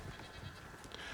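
A goat bleats in the zombie-western video game Red Dead Redemption: Undead Nightmare, a brief, faint cry set against a steady wash of game ambience.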